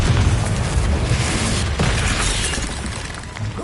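A Confringo spell explosion in a Hogwarts video game erupts in a loud, dense boom with shattering debris and a sustained roar that slowly fades over a few seconds.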